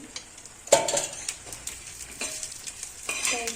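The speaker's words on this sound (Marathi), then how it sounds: "असं मस्त असं खोबरं परतून घेऊया आपण" Thin coconut slices sautéed in a little oil over low gas for a village-style drumstick pod bhaji, giving a soft, steady sizzle punctuated by a few sharp spatula scrapes and stirring clinks close by.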